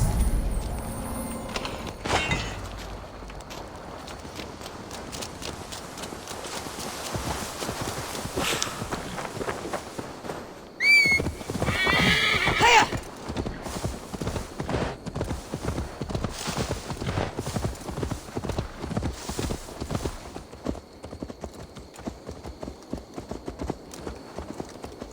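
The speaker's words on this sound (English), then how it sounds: "Now to deliver Magni his horse." A horse is ridden in the Assassin's Creed Valhalla video game, with steady rhythmic clip-clop of hooves on the ground that continues for a long stretch and briefly changes pace partway through.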